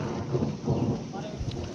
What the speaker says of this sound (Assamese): এয়া অকল বৰষুণকে পাই আছোঁ